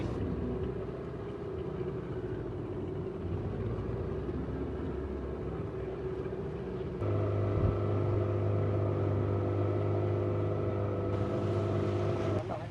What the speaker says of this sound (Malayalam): അപ്പോൾ ബോട്ട് നമ്മൾ സൈഡിൽ അടുപ്പിച്ചിട്ടുണ്ട് കണ്ടോ